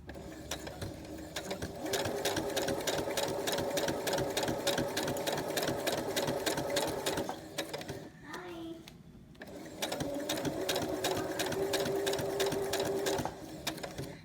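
Sewing machine stitching fabric in circles, a fast steady mechanical chatter of needle strokes that pauses briefly midway as the fabric is turned, then resumes, close up with no talking.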